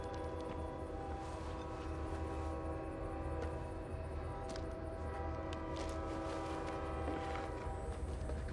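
An oncoming train approaches in a TV drama scene, a sustained rumbling rail noise with steady horn-like tones held throughout, moderately loud and continuous with no voices.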